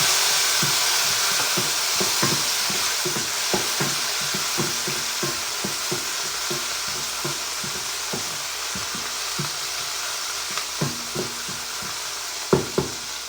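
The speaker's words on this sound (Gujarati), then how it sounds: "હવે આપણે આ એક નાનું ટામેટું જે ઝીણું સમારીને લીધું છે એ નાખીશું" Finely chopped tomato fries in a pan with roasted cumin for palak moong dal. A constant bright sizzle runs throughout, punctuated by a regular series of soft wooden stirring knocks.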